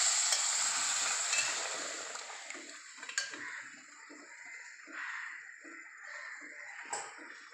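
Cooked vegetables and dal are stirred into hot oil for sambar, a soft sizzle fading as the mixture settles and is scraped around in irregular strokes.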